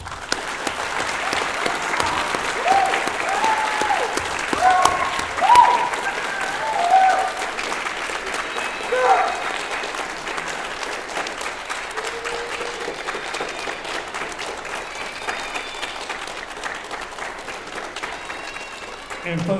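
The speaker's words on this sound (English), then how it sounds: "join me with a round of applause" A crowd applauds at the Polk County Early College graduation ceremony, a sustained, moderately loud round of clapping that swells and gradually thins, with faint voices and a few scattered cheers underneath.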